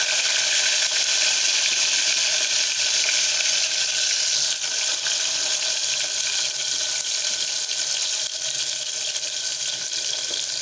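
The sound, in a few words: onion and tomato sautéing in oil in a pressure cooker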